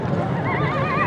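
A five-year-old mare being offered for sale gives a loud, close, wavering neigh, running about a second.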